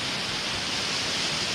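A waterfall in the desert pours steadily, a loud, broad, unbroken rushing hiss of falling water heard up close with no voices.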